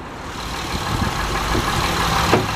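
A 2005 Honda Pilot EX-L's J35 3.5-liter V6 idles steadily nearby, a smooth, even engine hum holding at a constant level throughout with a faint brief rise near the end and no speech.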